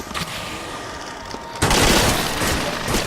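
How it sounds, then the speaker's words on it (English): Rapid gunfire bursts in the video game Dead Nation as power shots tear through zombies and pop their heads. The noise is loud, dense and continuous, swelling into a heavier barrage halfway through with no speech over it. "So hear all those heads popping"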